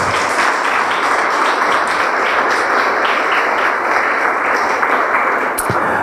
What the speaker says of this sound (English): he deserves a louder round of applause